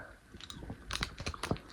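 A hard candy is bitten and crunched up close, a few quick crisp crunches and chewing sounds in a quiet indoor setting.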